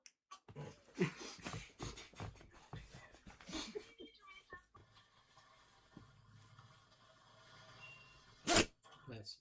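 People talk quietly, then a sudden loud sneeze bursts out near the end, sharp and close.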